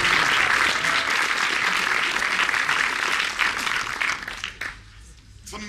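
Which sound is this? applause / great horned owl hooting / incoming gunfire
applause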